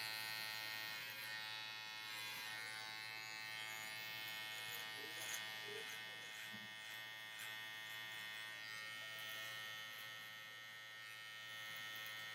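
An electric shaver runs continuously during a haircut on kinky hair, a steady bright mechanical buzz with a low hum beneath, held fairly faint and even throughout, with a few light scraping touches and no words spoken.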